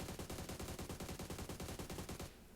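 Automatic weapon fire in PUBG Mobile, a fast even burst of about twenty rounds sprayed while the shooter stands upright at a target, loud and continuous before cutting off abruptly.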